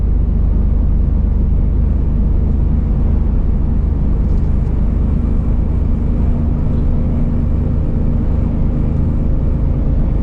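Loaded truck accelerating gently on a road, giving a steady, heavy low engine rumble and drone that continues without a break and dominates throughout.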